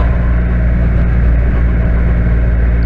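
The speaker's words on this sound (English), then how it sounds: "it's not a quiet engine, I can certainly hear it" A steady, loud low-pitched engine of a 2020 Triumph Rocket 3R motorcycle idles continuously, a deep rumbling drone with no talking.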